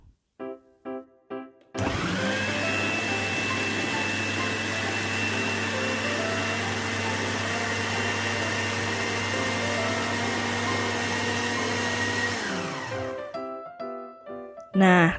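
A food grinder whirs loudly and steadily for about ten seconds as it grinds mackerel fish meat with salt, sugar and water, starting and stopping abruptly, with brief clicks before and after.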